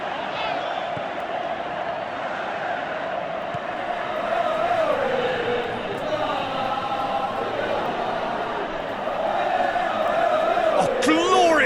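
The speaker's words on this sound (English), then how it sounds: "you can hear how the crowd are reacting to this too." Football stadium crowd at a Fenerbahce versus Besiktas style European match roars and swells continuously, a dense wall of cheering and shouting that rises louder toward the end, with no clear speech on top.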